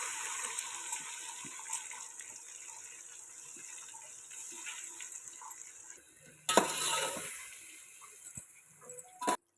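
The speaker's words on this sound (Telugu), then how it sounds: "కలిపి పెట్టుకున్నాం కదండి ఆ చికెన్ని ఇప్పుడు దీంట్లో వేసేసుకుందాం" Marinated chicken for biryani tipped into a pan and stirred, with close wet clattering and scraping against the metal over a steady background hiss, ending in a louder burst of splashing and knocks.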